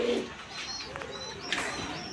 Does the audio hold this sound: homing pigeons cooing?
yes